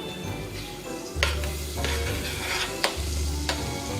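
Earth Balance soy-free vegan butter sizzles in a saucepan with a steady frying hiss, broken by a few sharp spoon clinks and scrapes against the pan. Nobody speaks.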